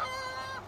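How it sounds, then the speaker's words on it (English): Loud chickens on a Nacogdoches, Texas farm give a brief, sustained squawking call outdoors, close and fairly strong, with no talking over it. "your chickens are loud"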